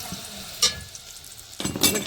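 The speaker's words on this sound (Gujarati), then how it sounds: "તેલ ગરમ થઈ ગયું છે ને હવે નાખ્યું બટેકા" Close, crackling sizzle of potatoes frying in hot oil, punctuated by two louder bursts of stirring and scraping.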